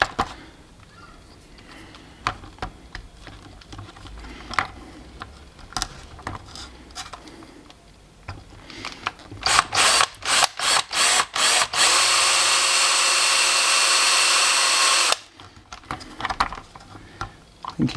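Drill bit grinding slowly through a panel during a stereo install in a Toyota 86 TRD 14R, heard as a run of short bursts and then a long steady whine lasting a few seconds before cutting off, loud and close with no talking.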